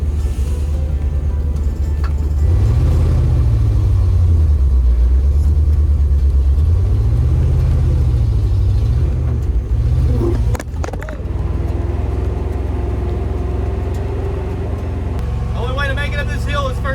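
A 1974 fire truck engine labors up a hill in first gear, a loud, deep rumble that rises and falls in waves with a brief lurch partway through, while someone talks over it.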